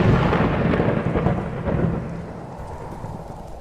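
Thunderstorm in the video game The Beacon's End: a loud, sustained rumble of thunder with steady rain hiss, swelling near the start and slowly fading, no voices.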